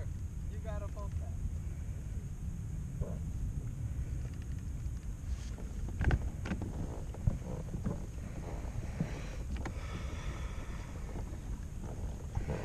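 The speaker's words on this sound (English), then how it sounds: "I heard the boat coming." A motorboat approaching across shallow open water while sailfish fishing, a faint engine drone building under heavy wind buffeting, with people talking throughout.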